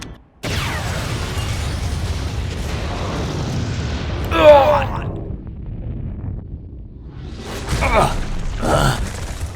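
A deep booming explosion in the video game Metal Gear Rising bursts out, followed by rumbling debris and wind-like noise, then further blasts near the end.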